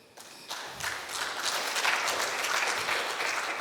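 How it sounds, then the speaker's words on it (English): An audience at a Dubai marketing keynote breaks into applause, a dense wash of clapping that swells quickly after a quiet start and holds steady to the end. "can we clap for him?"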